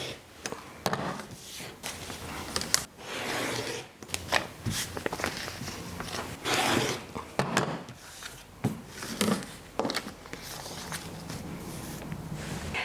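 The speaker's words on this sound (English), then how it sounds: "all we have to do is just trim around the outside edge of the template" Scissors trim a foundation paper piecing quilt unit around the outer edge of its paper template, giving a series of close, crisp paper-and-fabric cuts and rustles separated by short pauses.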